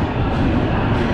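An Amritsar to Kochuveli express train pulling out of Kota railway station, a steady loud rumble of wheels and carriages close by, with no voices.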